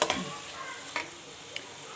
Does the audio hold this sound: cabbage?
yes